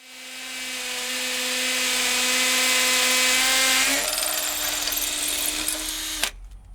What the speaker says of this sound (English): You're going to need a hammer drill. I'll set that on hammer, put this bit in, go to town.